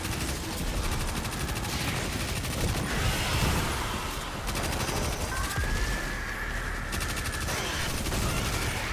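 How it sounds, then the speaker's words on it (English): Rapid gunfire from a weapon in Destiny 2, a dense, fast stream of shots rattling on for several seconds amid game effects and a brief whistling tone, fairly loud and continuous. "the fast firing is so satisfying"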